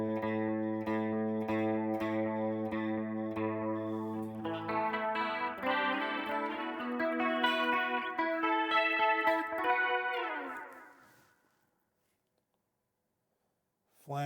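Electric guitar, a '64 Telecaster through a Line 6 POD Express chorus effect, plays sustained chords and then a busier run, shimmering with a wavering chorus, before fading out into silence.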